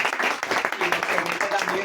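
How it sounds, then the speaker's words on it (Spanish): An audience at a book presentation applauds, a short burst of close, dense clapping with a voice speaking over it. "Pues podemos aplaudir."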